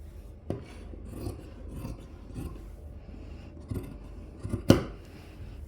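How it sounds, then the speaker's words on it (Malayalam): Scissors cut through old T-shirt fabric from armpit to armpit, making a few sharp, close snips and rasping crunches with short pauses between them and no voices. "ഇതിപ്പോൾ ആ കൈക്കുഴി മുതൽ അടുത്ത കൈക്കുഴി വരെ അത് കട്ട് ചെയ്ത് കളയുക"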